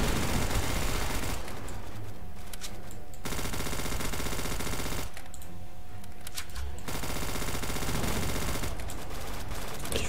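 Sustained automatic gunfire from the Roblox game Zombie Uprising during a boss fight, a dense rattling stream of shots that runs steadily through the whole stretch with brief lulls.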